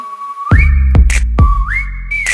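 Someone whistles in imitation of a falling missile, holding a note and then sliding it upward twice, with short bursts in between. The whistling is close and loud.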